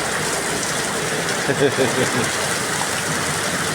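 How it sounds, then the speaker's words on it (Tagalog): Heavy rain pours in a steady, dense hiss, with a brief faint voice rising briefly partway through. "Lakas ng ulan, oh."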